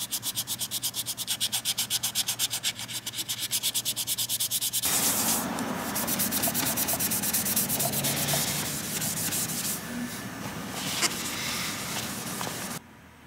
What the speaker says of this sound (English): This is 220 grit sandpaper.